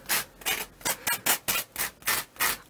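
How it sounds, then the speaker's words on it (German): Edges of a freshly unmolded concrete bowl are sanded by hand, about nine loud, rhythmic rasping strokes in quick succession, close and with no voices. "Wir ziehen uns die Folie runter und dann schleifen wir die Kanten."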